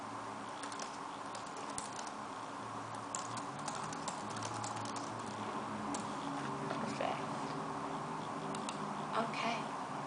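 Soft typing on a computer keyboard at a library desk during a quiet librarian role play, a continuous patter of light, close key clicks at an irregular pace, faint and intimate, with no talking.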